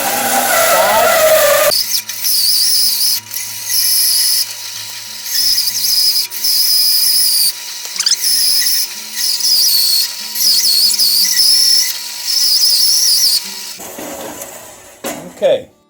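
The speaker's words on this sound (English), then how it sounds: "Now that we got them cut off on the bandsaw" Bandsaw slicing the sides off a wood log destined for a natural-edge turned bowl, a loud sustained cutting whine that runs through several long passes with brief dips between them, then spins down at the end.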